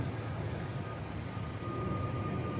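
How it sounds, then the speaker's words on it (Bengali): An old Sagarika passenger train rolls slowly along, a steady low rumble and clatter filling the whole stretch without pause or voices. "আস্তে আস্তে ট্রেনটি ছুটে চলছে"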